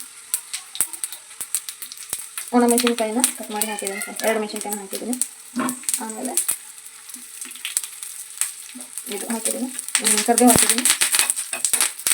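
Mustard seeds and cumin sizzle and crackle in hot oil in a home kitchen, with bursts of frying alternating with someone talking nearby.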